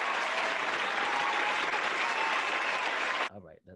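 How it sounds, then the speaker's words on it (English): Sustained, dense audience applause for guest William Jackson Harper on a talk show, loud and even for over three seconds before cutting off abruptly into a brief voice. "that's a long applause"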